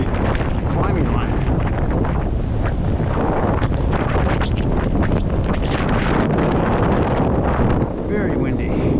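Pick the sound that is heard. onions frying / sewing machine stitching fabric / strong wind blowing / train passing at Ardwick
strong wind blowing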